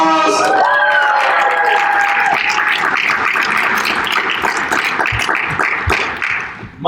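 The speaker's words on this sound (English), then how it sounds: "Everybody give a round of applause." Applause and cheering from a convention panel room crowd at a horror and pop culture con, starting over a voice that fades and then filling the room with steady, dense clapping.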